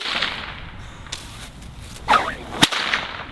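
Two sharp whip cracks from a bullwhip or stockwhip, the first with a short swish leading in, the second louder and very abrupt, each ringing briefly outdoors against steady background ambience, with no talking.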